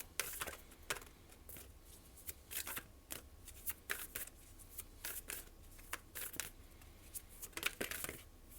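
Tarot cards are shuffled and drawn by hand in soft, quiet riffling bursts that repeat irregularly, each a papery flutter close by, with no talking.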